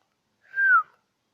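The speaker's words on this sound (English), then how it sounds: "To start off my journey, I whistled." A single human whistle, a short sliding tone lasting under half a second, clear and alone against silence.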